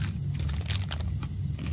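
Crunchy food being eaten in the survival game The Long Dark, with several crisp crunching bites over a low steady hum.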